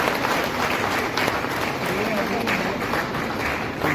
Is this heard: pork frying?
no